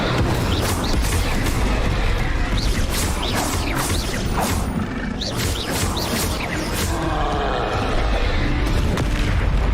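Hogwarts Legacy spellcasting with an Incendio fire spell amid a dense, loud roar of whooshes, crackling flames and booming impacts, layered continuously across the battle with chaotic effects.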